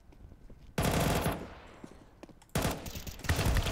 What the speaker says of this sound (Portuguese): Dei-lhe um tiro.